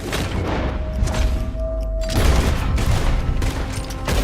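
Dense shootout gunfire in the video game Red Dead Redemption 2, loud overlapping volleys of shots and booming reports crowding close together for several seconds with almost no talk.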